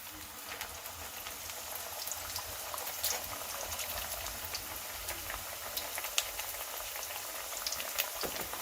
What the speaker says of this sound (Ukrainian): І чебуреки наші жаряться.